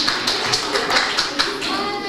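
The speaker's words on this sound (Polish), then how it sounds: "Brawa, słuchajcie, dla naszych cudownych dzieci." Clapping at a Christmas Eve gathering at a Franciscan children's aid center in Głubczyces, quick rhythmic claps from a small group, close and fairly loud, with voices underneath.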